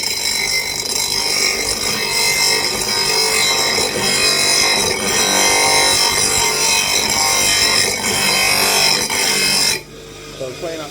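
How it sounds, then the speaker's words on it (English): A small bench grinder in a shed cleaning up the ends of a custom 2¼-inch exhaust pipe for a Honda CR-V, a steady loud whine and grinding hum that runs continuously before cutting off abruptly near the end. "bench grinder."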